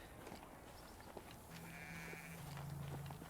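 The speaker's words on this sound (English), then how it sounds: "Little goat." A goat bleats in the Ghost Recon video game, with a couple of drawn-out, wavering calls over a steady bed of outdoor ambience, moderately loud and not overlapped by any talk.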